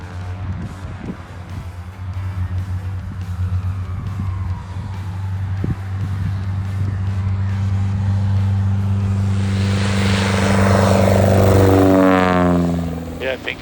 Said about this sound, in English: Cessna 170 is departing runway 13